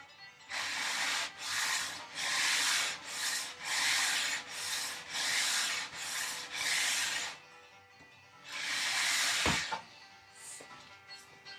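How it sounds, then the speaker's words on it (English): Repeated rhythmic strokes of a sanding block rubbing across tongue-and-groove wood on a woodie car restoration, a steady scratchy hiss in bursts, then a pause and one longer stroke with a knock. "I think I'm just going to hit it with a sanding block to get it down a little faster"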